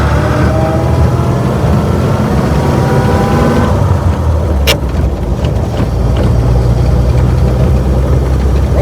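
A 1926 Oakland six-cylinder car engine running while driving along a road, a loud steady low rumble with a slight shift partway through and a brief sharp click, close and uninterrupted.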